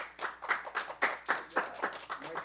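Quick rhythmic hand claps from a small group at a school board work session, steady and fairly close, forming a short burst of applause.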